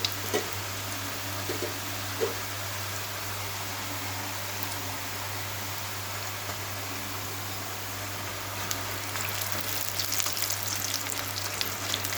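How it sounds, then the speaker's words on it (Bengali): Katanimki dough frying in hot oil gives a steady, loud sizzle that fills the whole stretch, a dense hiss with no talk over it. "তো আমি এটাই আপনাদের আগে ভেজে দেখাচ্ছি। তেলে দিলে সব ছেড়ে যাবে।"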